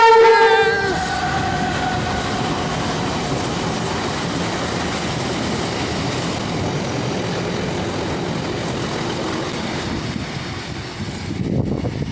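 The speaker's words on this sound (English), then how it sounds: "here goes the liner train heading to North Wall. It's a 2-1 class" An Irish Rail 201 class diesel locomotive hauls a liner train toward North Wall, opening with a sounded horn, then a loud, steady rumble of engine and rolling wagons passing close by with rhythmic clatter.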